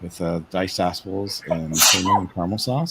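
One sharp sneeze bursts out in the middle of ongoing conversation about churros with apples, cinnamon and caramel sauce, with people talking before and after it.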